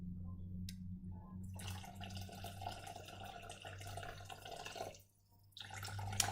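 About 250 grams of water trickles and splashes into a cooking machine bowl holding tomatoes, a fairly steady pour with a short pause near the end before it resumes, no talking.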